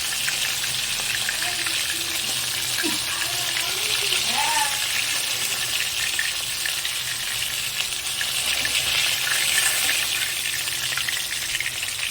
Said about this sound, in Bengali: এইভাবে সব মাছগুলোকে ভেজে তুলে নেব।